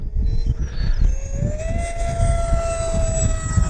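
FMS Futura 80mm electric ducted fan RC jet takes off with a loud rising whine that climbs in pitch and holds steady, over rumbling outdoor wind noise.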